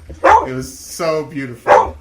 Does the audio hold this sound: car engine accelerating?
no